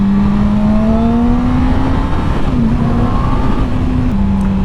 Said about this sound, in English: So easy to downshift through gears on this bike.